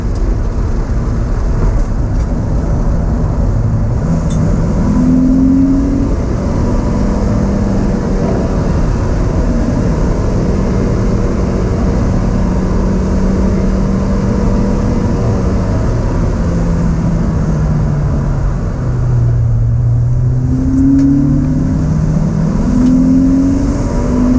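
Stiffly tuned car pulling hard through the gears, the engine note climbing steadily, dropping at a shift, then rising again; loud and close from inside the cabin, with a constant roar of road and wind noise underneath.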